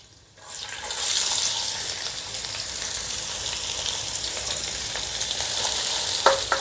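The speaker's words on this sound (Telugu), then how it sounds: "ఇప్పుడు ఈ ఉల్లిపాయల్ని లేదా బంగారు వర్ణం వచ్చేంత వరకు వేపుకుందాం" Sliced onions frying with garlic cloves and curry leaves in a pan for a fenugreek and potato curry, a loud continuous sizzle that swells after a quiet start, with a few sharp spatula scrapes near the end.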